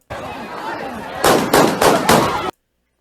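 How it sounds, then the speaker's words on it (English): Gunfire from a small-caliber weapon outside a concert venue, four sharp bangs in quick succession cutting through loud crowd chatter, then sudden silence. "that sounded like a small caliber weapon"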